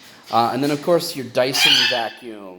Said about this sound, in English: birds are very, very loud